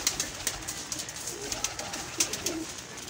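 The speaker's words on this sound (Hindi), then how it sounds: "लो दोस्तों यह गोल्डन कबूतर लगा है" Golden pigeons in a loft coo softly in short repeated calls, with faint clicks and rustling close by, and no talking over them.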